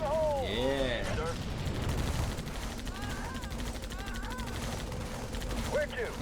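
Sustained rapid gunfire from covering fire in the Halo Wars video game, a dense continuous rattle of shots under battle effects and a voice speaking in the game.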